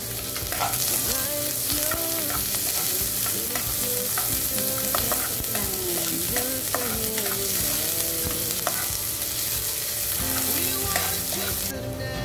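Garlic and onion sauté in a hot pan for chicken adobo, giving a steady, loud sizzle with occasional stirring scrapes throughout, close and uninterrupted with no talking.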